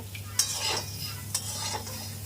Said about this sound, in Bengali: পনেরো মিনিট খানি এরকম নাড়াতে হবে